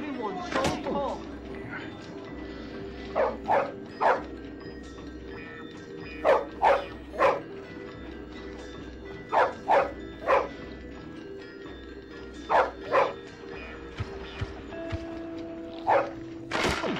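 A dog in the video game Bully barks repeatedly in paired and triple bursts spread across the stretch, moderately loud over constant game ambience, with someone talking now and then.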